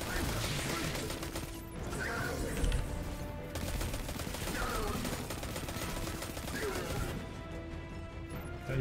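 Sustained, loud gunfire from weapons in Destiny 2, a dense rattle of rapid shots with crashes and mechanical clatter layered over it, running nearly unbroken with no talking.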